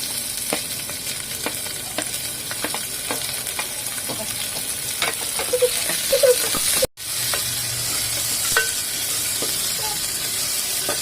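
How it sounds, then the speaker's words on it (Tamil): Crushed garlic and shallots sizzle steadily in a hot pan, close and loud, with occasional stirring scrapes and a brief cut in the middle. "நம்ம தட்டி வச்சிருக்கிற பூண்டும் சின்ன வெங்காயமும் போட்டு நல்லா வதக்கிக்கோங்க"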